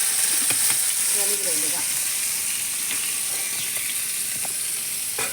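Murrel fish frying in oil, a steady dense sizzle and hiss, close and continuous, with faint stirring clatter and brief speech.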